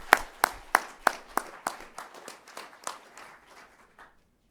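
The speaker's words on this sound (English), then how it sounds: "please join me in offering him a round of applause" At the NASA Headquarters Honor Awards, a dozen or so crisp, separate claps ring out at a steady pace, then soften and thin out, fading to silence after about four seconds.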